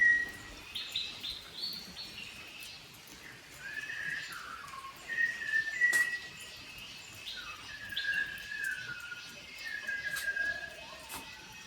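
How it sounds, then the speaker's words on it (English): Birds sing and chirp in repeated short phrases at a hill station resort bungalow in Tamil Nadu surrounded by mountains, moderately near over a quiet background with faint ambient noise. "listening to the songs of the bird gives you a beautiful,"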